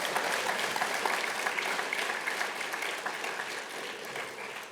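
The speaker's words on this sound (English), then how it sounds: "Yeah, you can give a round of applause." A lecture hall audience of students at a university algorithms course breaks into steady, dense applause that carries through the whole stretch, fading slightly toward the end.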